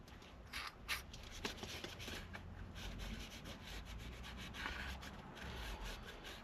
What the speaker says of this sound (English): Now we're going to give it a clean, some cleaner and microfiber cloth.